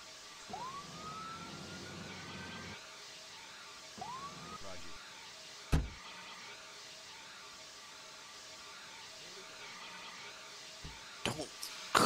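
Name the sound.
ambulance siren in Emergency 4 video game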